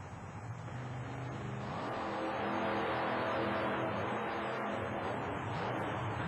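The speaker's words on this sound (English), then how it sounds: "Back on the starting line, Mike Wine gets ready with the supercharged Ford." A supercharged Ford monster truck makes a qualifying run at a 1991 indoor arena show in Worcester, Massachusetts. The engine roars loud and builds to a sustained, heavy rumble with rising revs, steady for several seconds.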